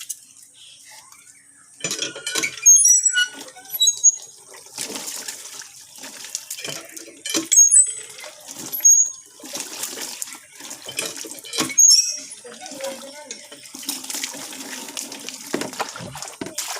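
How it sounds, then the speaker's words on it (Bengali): Tap water splashes while hands are washed with lemon soap at an outdoor washing spot, coming in irregular bursts mixed with the clink of metal dishes and utensils, with quiet gaps between. "হাত ধুচ্ছি।"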